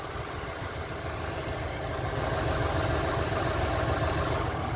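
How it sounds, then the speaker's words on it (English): A 1982 Ford LTD with a 351 Windsor V8 idles low and steady, a continuous deep rumble heard up close with no talk. "I mean, it's got a nice low idle."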